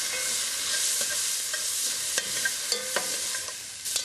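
Onions sizzle as they fry in a soup pot, a steady crackling hiss broken by sharp taps and scrapes of a stirring spoon.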